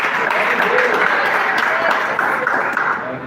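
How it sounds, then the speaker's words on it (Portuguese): Sustained applause from a church congregation welcoming a speaker, a thick, even crowd clapping that fades slightly at the end while voices murmur underneath. "Vamos receber o Lucas Pedroso com palmas."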